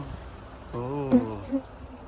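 Honeybees buzzing around a hive box on a farm in Korea, a steady, moderately loud droning hum lasting a couple of seconds with a few brief swells.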